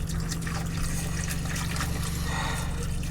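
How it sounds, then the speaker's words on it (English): Water is poured into a pot of potatoes, a steady close trickling and splashing that runs without a break over a constant low hum in a small cramped space. "I'm going to put some water in my tatties."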